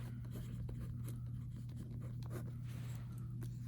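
Pen scratching out a math answer on paper, soft continuous scribbling strokes, close and quiet beneath a steady low electrical hum.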